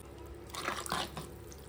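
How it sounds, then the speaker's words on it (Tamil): Water trickles and splashes briefly into a cooking pot, a short pouring burst over a quiet background. "இப்போ 1 டம்ளர் அரிசிக்கு 2 டம்ளர் தண்ணி ஊற்றிக்கலாம்."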